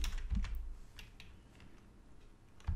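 Typing on a computer keyboard while writing PHP code: a few soft, scattered key clicks, faint and close, with low thumps at the start and end and no talk.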